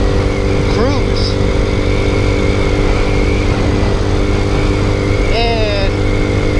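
A Boom Vader motorcycle, a small Grom clone, is ridden with a constant loud engine drone and wind roar, with a couple of brief rising revs as a rider talks over it.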